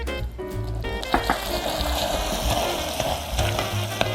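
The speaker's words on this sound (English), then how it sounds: "I'm gonna add butter" Loud, steady sizzling and bubbling as butter and vanilla hit hot nut brittle candy, with a few clinks of stirring, heard close with no talk.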